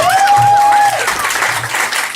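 Guests applauding during a best man's speech at a wedding reception, a short burst of clapping in the room, partly overlapped by a sharp sustained tone at the start.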